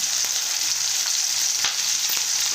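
Onion, green chillies and curry leaves sizzling steadily in hot oil in a pan, a continuous close hiss with a few faint pops and no talking.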